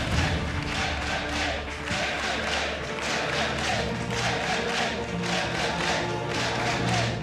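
At a StarCraft 2 WCS Europe esports tournament semifinal, the crowd cheers and applauds with a broad, rhythmic wash of clapping and shouting that holds steady and fairly distant.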